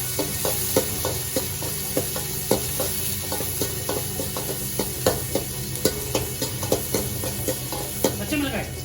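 Small shallots frying in oil for a chicken fry, a continuous close sizzle punctuated by regular stirring knocks of a spoon against the pan, with faint talk in the background.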